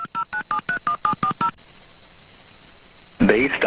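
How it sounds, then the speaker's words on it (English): Eight short, evenly spaced touch-tone beeps sound as a number is dialed through a prison calling-card phone system. A quiet pause follows, then a loud automated voice begins speaking. "The number is now being dialed."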